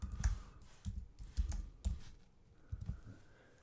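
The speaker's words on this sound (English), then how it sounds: "So let's say I am going to type in google.com" Typing a web address into a browser on a computer keyboard: several short groups of close, soft key clicks with brief gaps between them, and no talking.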